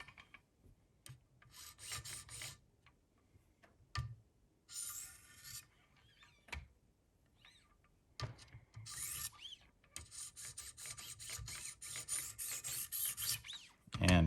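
A Buck 422 knife blade is drawn across 2200 grit diamond stones on a Wicked Edge sharpener, producing intermittent close rasping strokes in bursts separated by short pauses and clicks.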